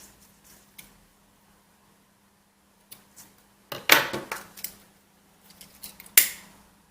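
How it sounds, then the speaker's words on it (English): Scissors trim excess macrame cords on a vertical stripe bracelet, giving a few crisp close snips in short bursts separated by near silence. "And then you can trim and seal any excess."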